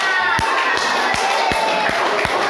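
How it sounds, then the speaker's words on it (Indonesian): Audience clapping in unison at a school event, slow rhythmic claps roughly every third of a second over a background of crowd murmur and voices. "Tepuk tangan."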